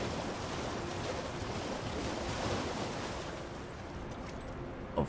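Steady rushing surf of water waves in Elden Ring, a continuous broadband wash with a hint of wind, moderately loud and unbroken, no voices over it.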